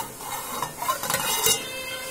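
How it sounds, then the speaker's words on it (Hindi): A spoon stirs rice in a pot of boiling water, with scraping, bubbling and soft clinks of metal, close and continuous, no talking. "चावल मिलाकर हम इसको पहले चला लेंगे, वरना चावल हमारे पकड़ने लगेंगे।"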